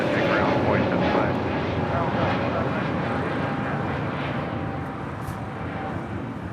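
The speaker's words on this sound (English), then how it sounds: "The Emirates A380 now rolling." An Emirates Airbus A380 rolls for takeoff at LAX, its jet engines a loud, broad, steady roar that fades slightly over the clip, heard from a distance.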